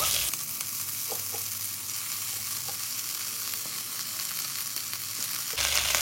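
Washed drumstick leaves frying with onion, dried red chillies and curry leaves in a pan for sambar, a loud, dense, continuous sizzle with occasional light stirring taps, close up and with no talking.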